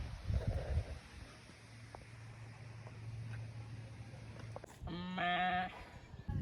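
A single goat bleats once near the end, a wavering nasal cry, after a stretch of low outdoor rumble and faint background noise near Jhumfali waterfall, Danta, Banaskantha.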